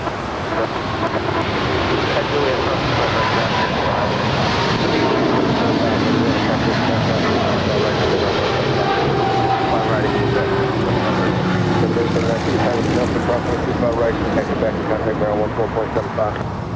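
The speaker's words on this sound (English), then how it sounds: "That is Atlas Air Flight 8027 departing to Sao Paulo. It's a 777 freighter." A Boeing 777 freighter jet departs Los Angeles International Airport, its engines a loud, continuous broadband roar held throughout, heard outdoors with wind buffeting the microphone.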